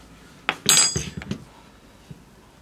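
Silica powder stirred into conductive ink to make thermal paste, a run of light scraping and clinking strokes close by, a few quick taps then a short sequence of stirring knocks with a faint tap afterward, no voices.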